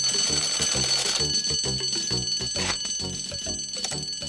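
An alarm bell rings in the Fireman Sam cartoon after an allotment shed catches fire, a steady metallic ringing that carries on loudly over an underlying music score.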